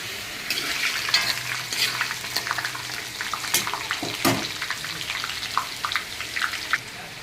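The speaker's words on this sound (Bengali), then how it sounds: "আর এখানে আমি আলুটাকে ভাজতে নিয়ে নিয়েছি" Potato pieces frying in a pan with bay leaves, a continuous sizzle broken by frequent spatula scrapes and clatters, close and fairly loud, with no voices.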